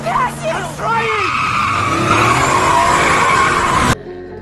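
A car skids as it pulls over in a horror film scene from Jeepers Creepers (2001), with a loud, sustained tire squeal over engine roar and music that cuts off abruptly.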